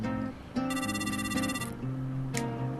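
A telephone rings in a video game with a synthetic, tonal electronic ringtone, a steady repeating melody over a soft background musical tone, loud and close with no talk.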